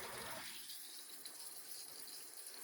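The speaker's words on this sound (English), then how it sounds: "we've got that warm water coming out of the shower" Warm water runs from a shower fed by a gas-heated solar install, a steady, faint hiss of spray that starts with a brief gush and then settles into a constant flow.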